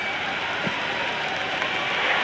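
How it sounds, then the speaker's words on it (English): Steady, dense crowd roar and applause from a simulated stadium audience in the Cricket 26 video game during an India vs England T20 match, a continuous wash of cheering with no voices on top. "It's evident and ever so audible that the crowd is at near bursting point at today's play."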